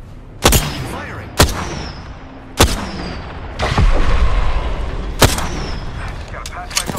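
Sharp gunshots ring out in the video game Apex Legends, about six loud separate cracks spaced irregularly across several seconds, with a rumbling stretch in between and player chatter underneath.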